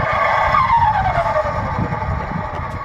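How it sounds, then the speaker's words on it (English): Simulated VL Turbo blow-off flutter sound played through a car, a loud fluttering, whooshing burst with a descending whistle over a rumbling engine, close and sustained. "So the first sound is the VL Turbo Flutter."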